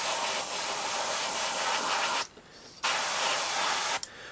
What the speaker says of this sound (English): When I'm airbrushing I try and make sure I can get the base colour in all the recesses